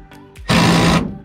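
Power tool driving bolts on a Porsche Panamera 4S sunroof, a single loud, close whirring burst of about half a second, preceded by a couple of faint clicks.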